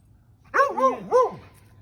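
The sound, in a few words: dog barking excitedly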